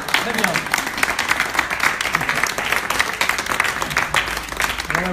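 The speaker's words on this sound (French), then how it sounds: "Et on peut nous applaudir." An audience applauds at a literary book fair prize ceremony for a first novel, steady dense clapping throughout, with voices speaking over the applause.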